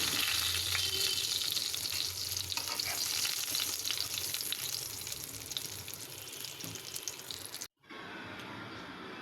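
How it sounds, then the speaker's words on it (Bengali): Onion, garlic and green chilies fry in leftover koi fish-frying oil topped up with mustard oil, a loud, continuous close sizzle that breaks off for a moment near the end. "কেটে রাখা পেঁয়াজ, রসুন, কাঁচামরিচ হালকা বাদামি করে ভেজে নেব।"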